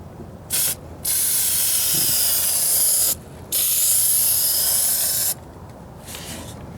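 A spray can lays a second coat of red paint over a patched driver-side floor pan on a Ford Ranger, giving three loud, close hissing bursts separated by short pauses, the middle ones long and sustained.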